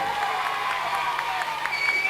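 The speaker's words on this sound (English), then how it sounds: "give yourselves a round of applause, boys and girls on ringside" Holiday camp audience at Haven's Primrose Valley ringside show claps and cheers in a moderate, steady burst, with scattered whoops and voices mixed into the applause.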